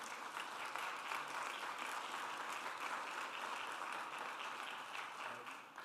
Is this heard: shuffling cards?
no